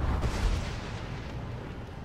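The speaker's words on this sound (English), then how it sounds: "Smoke bomb!" A smoke bomb bursting in Minecraft: Story Mode, a loud low rumbling whoosh that hits at once and slowly fades over about two seconds, with no talk.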